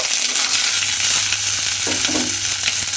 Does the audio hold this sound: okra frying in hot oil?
yes